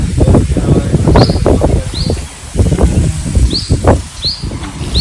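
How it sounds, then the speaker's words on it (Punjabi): Small birds chirp in brief, high tweets every second or so, over loud rustling and gusty wind noise close to the microphone. "ਚਿੜੀਆਂ ਬੋਲਦੀਆਂ ਨੇ"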